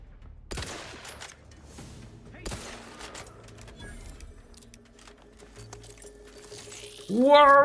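Gunfire in The Outer Worlds 2, a few sharp sporadic shots ringing out over quiet game ambience, followed by a loud sudden burst of noise at the end.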